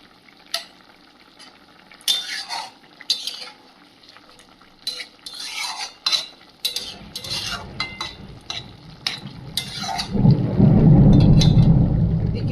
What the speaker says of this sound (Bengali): তার থেকে বেশি জোরে মেঘ ডাকছে বাইরে